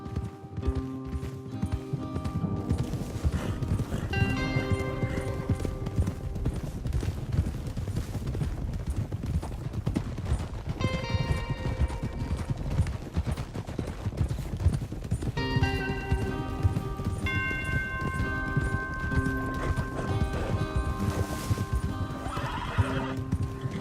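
Hooves pound in a steady galloping clip-clop in the video game Red Dead Redemption 2, with horses whinnying and neighing now and then over the rush.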